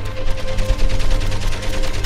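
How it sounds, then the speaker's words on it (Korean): Machine gun fire in the World War I video game Valiant Hearts, a loud, dense rattle of rapid shots running steadily throughout with no talking. "기관총"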